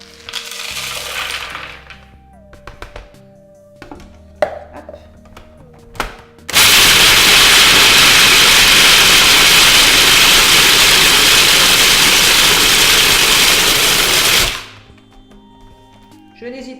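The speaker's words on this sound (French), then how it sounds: "Je vais utiliser mon robot Lamain S pour broyer," A Lamain S food processor grinds raw nuts for granola in a long, loud, steady roar of about eight seconds, then cuts out abruptly, with quieter kitchen clatter and clicks before and after.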